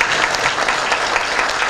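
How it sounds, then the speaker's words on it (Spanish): A crowd at a public ceremony for a works inauguration in Los Pocitos, Formosa, breaks into brief, loud, dense clapping that lasts under two seconds. "Con el aplauso de todos ustedes"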